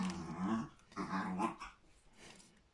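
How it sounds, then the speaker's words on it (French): A dog growls in play, several short throaty rumbling bursts close by, trailing off into softer whimpering grumbles. "Le chien a décidé de jouer."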